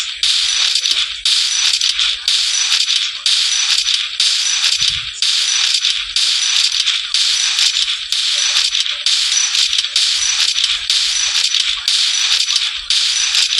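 M590 shotgun fire in the Free Fire mobile game, loud bright blasts repeating rapidly in an even rhythm while the player jumps, with no talking.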